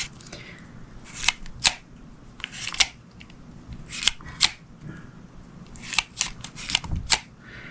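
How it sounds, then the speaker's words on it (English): Sharp metallic clicks come from a spinning reel's bail being snapped open and shut again and again to spread grease, arriving in close pairs at an uneven pace, crisp and near against a quiet background. "Just gonna open and close it, open and close it, and just do this repetitively to spread the grease."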